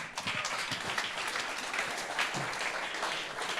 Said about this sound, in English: Give Erkki a big applause.